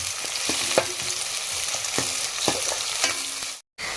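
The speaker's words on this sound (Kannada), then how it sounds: "ಉಳ್ಳಾಗಡ್ಡಿ ರೀ ಉಳ್ಳಾಗಡ್ಡಿ ಸ್ವಲ್ಪ ಚಲೋ ಬೇಯಬೇಕು" Onions fry in a pan, a close, continuous sizzle broken by rhythmic clinks and scrapes of a stirring spoon, with a brief dropout near the end and no voices.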